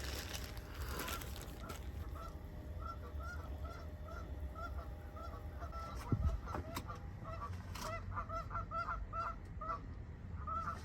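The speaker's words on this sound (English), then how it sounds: "I think there's a geese outside my car" Geese honk repeatedly at a short distance, a steady series of nasal calls over low rumbling background noise.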